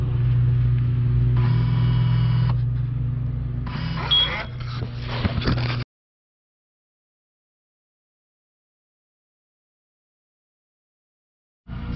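A V6 Ford Mustang fitted with an idle chop mod rumbles low and close for about six seconds, with a brief rise in engine noise midway. Silence follows, and the engine sound returns faintly at the very end.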